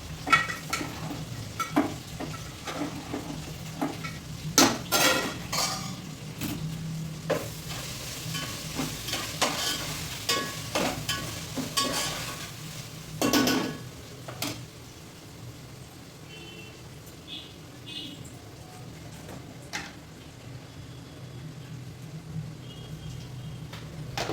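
Curry being stirred in a pan for a festival meal, with a soft sizzle underneath and repeated scraping, clinking spoon strokes against the pan at uneven intervals, quieter toward the end.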